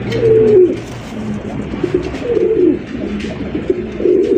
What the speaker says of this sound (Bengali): আরো একজন রেসার কবুতর মাশাআল্লাহ আপনারা দেখতেই পাচ্ছেন